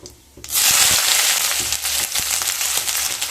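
Sliced onions dropped into hot mustard oil in a wok with panch phoron, bursting into a loud, steady sizzle after a brief quiet moment, close up and alone.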